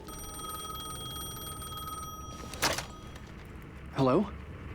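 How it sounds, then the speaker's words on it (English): Telephone ringing in the video game Alan Wake 2: a single ring burst partway through, then a second, louder ring near the end over a steady hum of ambient game noise. "The phone was ringing again."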